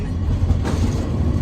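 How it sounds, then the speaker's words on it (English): A funicular train car on a Los Angeles hillside line passes close by with a steady, heavy low rumble and a faint rolling rattle that holds level throughout. "So this is the funicular going down. Very cool. There's the other train"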